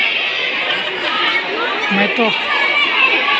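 Dense crowd chatter fills the grounds of Jivdani Temple, a steady wash of many overlapping voices near and far, with someone speaking briefly up close.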